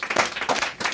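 Brief burst of audience clapping for a contestant on a Hindi game show, several quick loud waves of claps with no talk.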